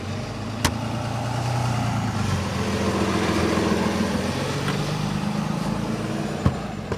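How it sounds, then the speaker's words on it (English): A truck passes by outside a parked Dodge Grand Caravan minivan camper, a steady low engine rumble and road noise that swells and fades over several seconds, with faint clicks and no talking. "Sorry about the truck noise."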